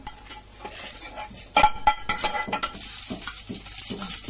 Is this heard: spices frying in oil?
yes